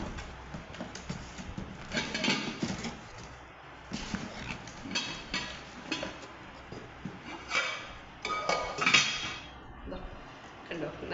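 Heavy, expensive cooking pots and vessels received as a gift clink and knock together as they are handled, in a run of bright metallic taps and scrapes that come and go under the sound of people talking.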